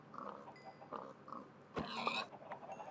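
Pigs oink and snort in a video game farm, a brief burst of grunting rising mid-clip over a quiet, murmuring ambient background.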